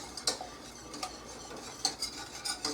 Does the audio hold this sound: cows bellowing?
no